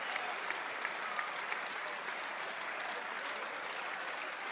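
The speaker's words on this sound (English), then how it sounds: "Gionis enjoys the applause here" Steady, dense applause from a table tennis crowd at the 2013 European Championship, rewarding a point won by Gionis against Ovtcharov; close, even clapping holds throughout with no voices on top.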